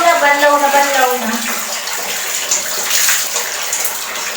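Water pours and splashes steadily while hair is rinsed, a continuous close gush like a tap or bath fill, with a brief voice at the start.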